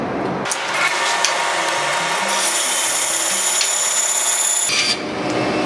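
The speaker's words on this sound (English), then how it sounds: "I'm going to cut right along the edge here with my bandsaw" A bandsaw cuts through an engineered wood stair nose, a steady rasping blade sound running close and loud for about four seconds, with quieter motor hum before and after the cut.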